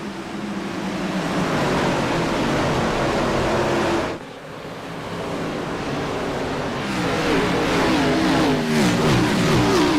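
Stock cars in a short-track racing video game roar off together at the Nashville green flag, a loud, steady pack of engines revving up with a brief dip and rising pitch as they accelerate.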